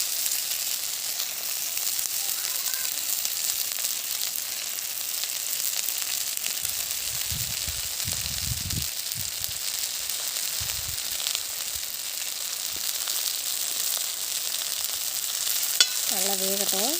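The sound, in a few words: fish frying in sesame oil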